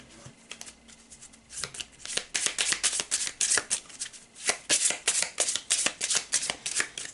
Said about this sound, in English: Let's give them a quick shuffle.